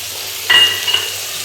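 Tomato paste goes into a pan of frying potatoes, onion, ginger and garlic, bringing a short, louder burst of sizzle on top of a continuous close frying hiss.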